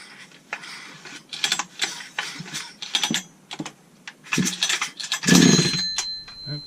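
A Husqvarna 272XP chainsaw, choke on and brake cleaner sprayed into the intake, is yanked on its starter cord in several rasping pulls, then catches with one loud, brief pop close by.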